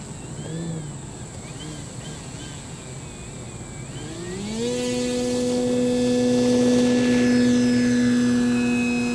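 An E-Flite Carbon-Z Cub SS 2.1m electric RC model plane flying, its motor humming at a low pitch before rising to a steady, louder whine that holds for several seconds, with no one talking.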